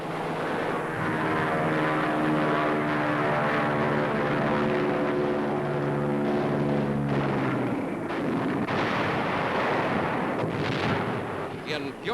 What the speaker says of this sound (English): Anti-aircraft brings down one of our planes, but the crew bails out in safety.